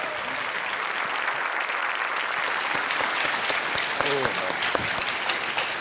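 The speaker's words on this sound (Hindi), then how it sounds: "आइए तालियों के साथ अभिजीत जी का स्वागत किया जाए।" A studio audience on the quiz show Kaun Banega Crorepati claps continuously to welcome a new contestant, with a voice briefly audible near the end.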